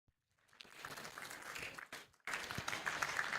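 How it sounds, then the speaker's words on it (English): An audience at a university matriculation ceremony keeps applauding, a dense wash of clapping that starts softly, dips briefly, then swells louder near the end. "Keep clapping."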